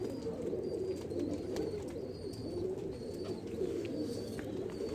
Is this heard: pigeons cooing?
yes